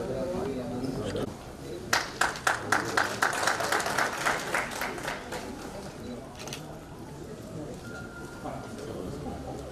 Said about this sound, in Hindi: जोरदार तालियां बजाकर आपका सम्मान करें।